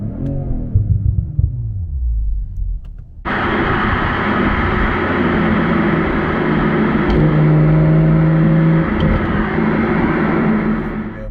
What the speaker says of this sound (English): Okay, again, we'll do a quick free rev with the Iconic Sounds on.